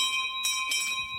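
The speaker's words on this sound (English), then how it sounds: "That bell settled it." A bell rings as an audiobook sound effect, sounding a steady sustained tone with three or four distinct strokes repeating over a little more than a second, fairly clear and alone.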